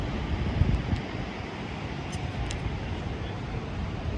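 Strong wind roars steadily across a bridge overlook in Croton Gorge Park, Croton-on-Hudson, New York, buffeting the microphone with a continuous low rumble close up.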